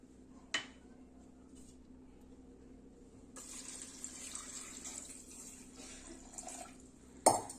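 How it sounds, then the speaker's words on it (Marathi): Water runs into a pot of soaked chickpeas in a quiet kitchen, with a soft steady pour, a brief clink near the start and another knock at the end. "तर इथे आपण छोल्याच्या थोडंसं वरती पाणी ऍड करणार आहोत"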